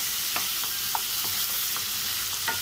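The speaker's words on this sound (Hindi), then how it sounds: "अब हम मसाला को अच्छी तरह से आलू में मिक्स करेंगे ताकि जो मसाले हैं आलू में भी चले जाए।" Masala is stirred into potatoes frying in a pan for a rohu fish egg curry: a constant loud sizzle with a spoon scraping and tapping the pan several times, and no talk.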